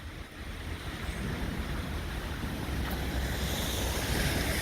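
Floodwater surges down a city avenue in Petrer during heavy rain, a steady, loud broadband roar of rushing water with wind buffeting the microphone, continuous and unbroken with no voices.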